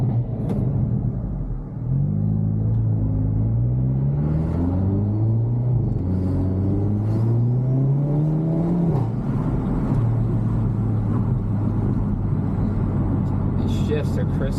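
A turbocharged Hyundai Elantra N accelerates hard from inside the cabin, its engine note climbing in repeated rising sweeps through the gears with clear shift breaks, then holding a steady drone, with road rumble and a voice talking over it.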